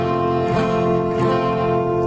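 Guitar chord from a song lesson, strummed three times in a steady rhythm with each strum ringing into the next, played close and clear with no talking.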